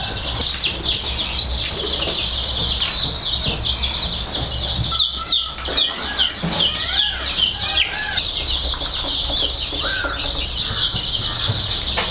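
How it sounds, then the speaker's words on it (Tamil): Aseel fighting chickens on a large farm cluck and call amid a busy, steady din of many birds, with occasional wing flaps and chirps throughout. "இது நாட்டுக்கோழிலேயே பெருவடை கோழி. இது சண்டைக்காக வளர்த்துற கோழிங்க."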